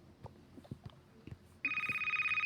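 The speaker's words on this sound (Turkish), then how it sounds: "Anne telefon çalıyor." A telephone ringtone starts partway through and repeats in an even pulsing pattern, loud and close, after a stretch of faint background knocks and household bustle.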